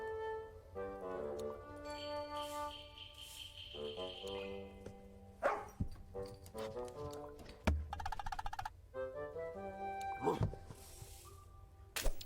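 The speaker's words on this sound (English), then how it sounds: "Cartoon dogs are the best." A cartoon dog barks in The Little Acre video game as several short yips that break through a bright, playful musical score with tinkling melodic notes. The yips are scattered irregularly and are fairly close.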